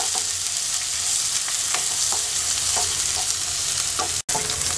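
Chopped onion with cumin fries in a pan of hot oil in a continuous, even crackle, with faint stirring scrapes breaking through now and then.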